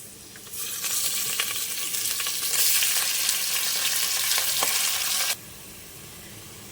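Beef chunks hitting a pot of browned onions for Afghani pulao set off a loud, hissing sizzle that swells and holds for several seconds, then cuts back to a quieter background fry.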